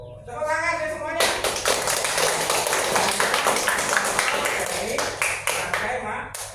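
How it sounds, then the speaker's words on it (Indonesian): A crowd of children in a classroom claps together in a burst of applause lasting several seconds, loud and close, with some voices mixed in. "Tepuk tangan ya semuanya."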